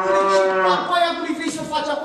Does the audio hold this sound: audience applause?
no